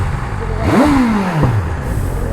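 A BMW S1000RR superbike engine gives one sharp throttle blip close by, its pitch shooting up and then sliding back down to idle over a steady background rumble.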